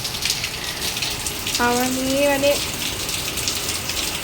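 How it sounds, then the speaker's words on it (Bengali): Heavy rain pours down outside past an open gate, a steady broadband wash with a voice talking briefly over it. "ও মা, কত বৃষ্টি হচ্ছে।"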